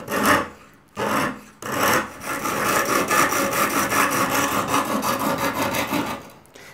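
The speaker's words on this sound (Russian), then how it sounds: "Вот сейчас пока мы идем и стесываем зазубрины" A serrated knife is ground on a 120-grit sharpening stone, making loud, close, rasping scrapes in repeated strokes with brief pauses between the first few passes, then a continuous stretch of grinding.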